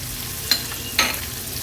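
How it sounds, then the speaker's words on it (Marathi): Chopped onion and curry leaves sizzle faintly in hot oil tempered with mustard and cumin seeds, with two quick clinks of a spoon stirring the pan. "कढीपत्त्याची पानं आणि मोठ्या साईजचा कांदा जो चिरून घेतला आहे तो घालूया फोडणीला"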